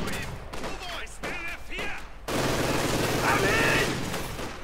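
An MG42 machine gun in the battle game Company of Heroes 2 fires a sustained, dense burst of rapid shots that begins abruptly after a stretch of talk and continues loudly to the end.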